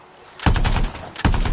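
Heavy automatic turret fire from the video game Anthem, two loud sustained bursts of rapid gunshots, the first lasting about three-quarters of a second and the second cutting in after a brief gap, close and dominant with no talk.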